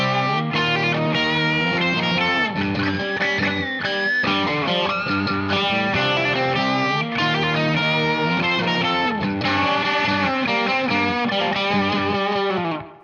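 A distorted electric guitar plays the lead line from a song, a repetitive melodic riff in continuous, loud, sustained notes with chorus-like effects, played alone without talking and cutting off at the end.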